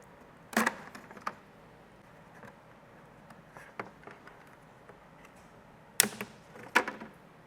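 Plastic clips snapping free from a vent in Toyota Tacoma interior trim: a sharp pop near the start, scattered faint clicks and handling noise, then two more crisp pops close together near the end, close and otherwise quiet.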